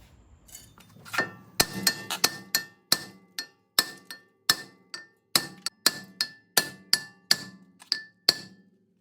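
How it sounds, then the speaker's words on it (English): A hammer strikes the brake rotor of a 2015 Ram 1500 between the lugs, about fifteen sharp ringing clangs in a steady rhythm, loud and close, with brief decaying rings between blows. "I hit in between here, in between the lugs with a hammer, and hopefully the rotor will pop off"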